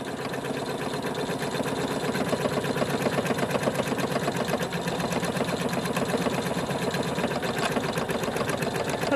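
A large embroidery machine stitches a quilted bowl cozy in the hoop with a fast, steady mechanical chatter, close and constant throughout with no talk.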